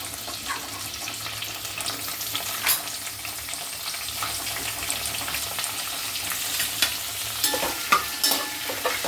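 Chopped tomatoes sizzle gently in a pan for a Kerala-style fish curry, with intermittent scraping and clinking of a spoon stirring them, soft and close with no talking.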